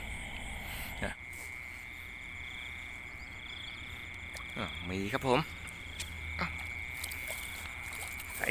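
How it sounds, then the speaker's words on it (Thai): A large frog croaks by the water at night during a fishing trip, a short burst of rapid throaty pulses rising over a steady drone of crickets and insects, with someone speaking briefly nearby. "กบใหญ่นะครับ"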